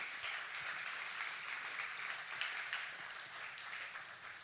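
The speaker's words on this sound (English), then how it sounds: "Everybody give him a round of applause." A church congregation gives a round of applause for a son at the close of a service, a fairly quiet, steady wash of many hands clapping that thins out slightly at the end.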